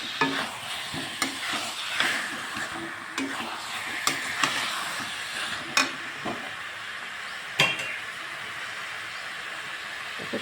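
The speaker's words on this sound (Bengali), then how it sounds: "এবার আলুটা দিয়ে আবার কিন্তু খুব ভালো করে কষিয়ে নেব।" Potatoes stir-fry with spice masala in a pan, a continuous sizzle broken by repeated sharp scrapes and knocks of a spatula against the pan, close and fairly loud, with no voices.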